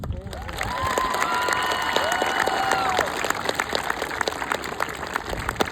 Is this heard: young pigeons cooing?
no